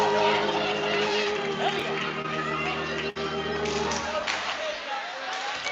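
Crowd at a varsity high school hockey game between Shaker and Gilmour Academy, chanting a player's name during the second period; a steady, dense roar of many voices fills the rink throughout, close and loud.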